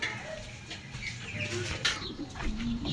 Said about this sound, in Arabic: قلت اطلع ابص على الحمام